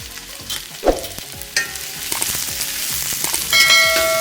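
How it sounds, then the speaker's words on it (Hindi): Finely chopped onions, two large ones, hit a pan of hot oil and fry with a steady sizzle, broken by a few sharp metallic clinks of a spoon against the pan. "2 बड़े साइज के बारीक कटे प्याज है वो हम ऐड करेंगे।"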